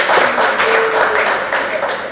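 An audience at a book talk applauds with continuous, dense clapping that stays fairly loud throughout the short stretch.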